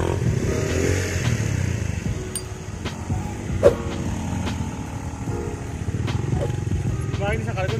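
A trail motorcycle engine idling and revving steadily in the background during an off-road ride, with a clatter partway through and people chatting over it.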